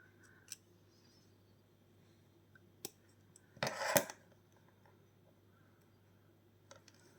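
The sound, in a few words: knife cutting plastic model parts from sprue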